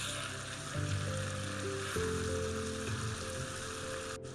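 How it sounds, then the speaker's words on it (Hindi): Gosht sizzles and fries in a pan, with a steady close crackle throughout and a few low clanks of stirring partway through. "और फिर से भूनेंगे गोश्त को।"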